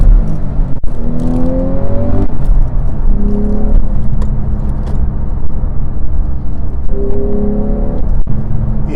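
A manual Porsche 911 Carrera S of the 991.1 generation, naturally aspirated, accelerates hard through several rising engine sweeps separated by gear changes, loud and close from inside the cabin with no talking.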